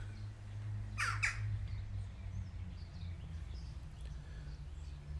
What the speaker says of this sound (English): it's just the birds flying past